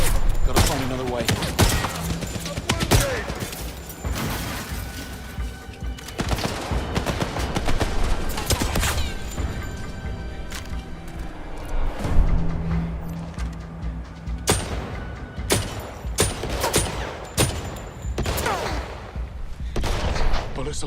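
Dense gunfire in the spy action game 007 First Light, with repeated sharp shots and bursts cracking steadily throughout amid in-game ambience and occasional voices.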